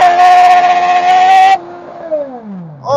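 A dwarf car fitted with a Suzuki GSX-R 1000 motorcycle engine screams loudly at high revs close by, then cuts off abruptly and winds down in a falling whine before the engine roars up again at the end.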